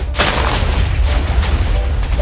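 Granida shockwave cannon firing in a Minecraft Jujutsu Kaisen mod, a loud heavy boom with a rumbling, roaring blast that sustains across the short moment.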